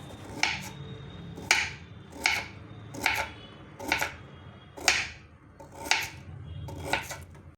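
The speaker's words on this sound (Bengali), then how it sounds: "ছোট ছোট করে সব সবজিগুলো কেটে নিলাম।" A knife chops vegetables into small pieces on a board in a home kitchen, seven distinct, evenly spaced sharp thuds about a second apart, close and clear with no talking.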